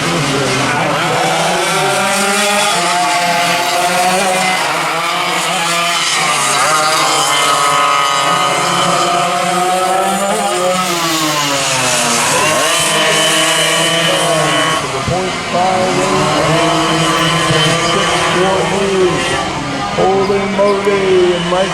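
Vintage dual sidewinder racing karts screaming past at full throttle during a race at New Castle, a dense, loud, continuous engine howl with rising and falling pitch as several karts pass close by.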